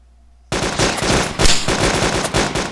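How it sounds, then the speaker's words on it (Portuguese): Rapid automatic gunfire from the Arma 2 military shooter, bursting in loud and close after a half-second of quiet and continuing as a dense, sustained rattle of shots. "Ele tá atirando."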